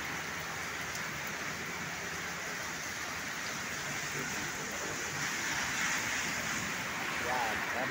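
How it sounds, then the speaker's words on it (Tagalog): Heavy rain pours steadily at night beside the San Agustin church in San Fernando, Pampanga, a dense continuous hiss that swells slightly toward the end, with no talk over it. "malakas po ang ulan"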